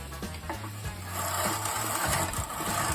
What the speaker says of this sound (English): when you use the machine, it's just as simple as keeping it guided and cranking the handle.